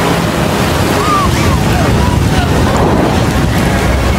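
Ocean waves in a film scene give a broad, constant wash of surf and wind, loud and unbroken throughout, with no talk over it.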